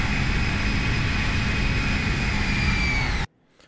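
Engines of an Airbus A319 in a flight simulator replay roar in a steady, loud, even drone with a faint high whine, then cut off abruptly into near silence.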